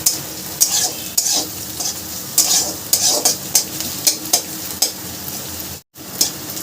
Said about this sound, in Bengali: আদা রসুনটাকেও একটু ভাজা ভাজা করে নেব।